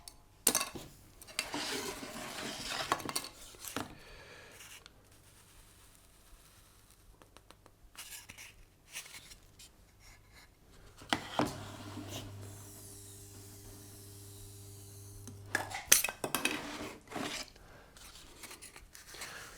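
Spire cutter tool slicing through material for a tabletop roleplaying game spire, producing scattered bursts of scraping and snipping with quieter pauses between them, close and fairly faint.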